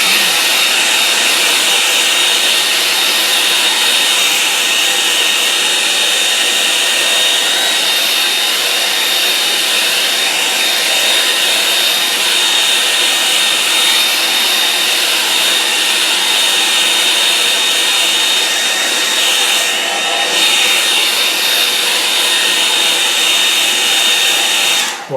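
Hair dryer blowing steadily on a wet watercolour moorland painting, a loud, continuous close-up whoosh with a high whine that runs unbroken for the whole stretch, no voices.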